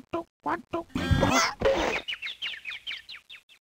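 A short burst of rapid clucking and squawking hen calls in the Sesame Street: Let's Make a Word! video game, followed by a quick run of chirpy descending notes, bright and close.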